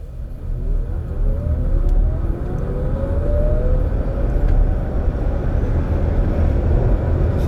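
A 2017 Chevrolet Bolt EV electric car pulls away from a standstill with a steady, loud road and wind rush and a faint electric whine climbing in pitch as it gathers speed.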